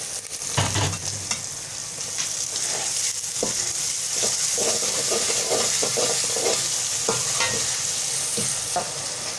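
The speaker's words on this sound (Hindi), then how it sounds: "माशाल्लाह कितने अच्छे से फ्राई हो रहा है।" Biryani masala for an achari chicken biryani fries in a pot under repeated stirring: a loud, constant sizzle with frequent scraping, clattering strokes of the spoon against the pot, close by and without talk.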